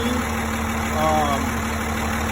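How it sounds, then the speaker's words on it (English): A Cummins diesel engine idles in a 1999 105 series Land Cruiser conversion, a steady mid-pitched hum with a fixed tone, loud and close, rising slightly midway. "Still a pretty noisy engine, so fun to drive, fun conversion to build."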